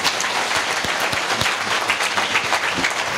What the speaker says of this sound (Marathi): हजारोच्या संख्येने उपस्थित सर्व भाविक भक्त एकदा स्वतःसाठी जोरदार टाळ्या